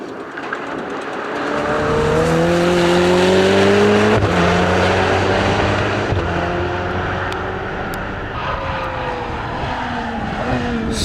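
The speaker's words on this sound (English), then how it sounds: "The Ferrari 488 Challenge Evo is hooning around with Ollie Brown driving it right now" A Ferrari 488 Challenge Evo race car screams around the Anglesey circuit, its engine note rising through the gears as it passes nearby, then fading slightly and climbing again in a sustained, loud roar.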